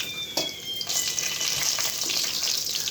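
Spices and curry leaves sputter in hot oil for a cabbage chana dal curry, a dense, bright crackling sizzle with a few sharper pops, up close and with no voices.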